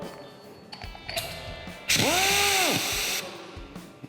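A jGun dual-speed pneumatic torque tool in rundown mode spins a nut, giving a loud burst of about a second with a whine that rises, holds and falls, followed by a brief hiss and quieter handling clicks.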